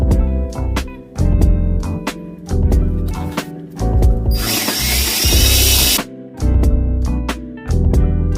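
A power drill drives screws into a slat wall board, whirring in repeated short bursts with pauses between, plus one longer stretch of harsh grinding as a screw bites in, close and loud.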